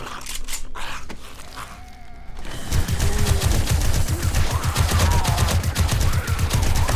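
Sustained rapid automatic gunfire in the survival game 7 Days to Die (Darkness Falls), loud and continuous after a brief quieter opening with scattered shots, dense repeated bursts filling the rest.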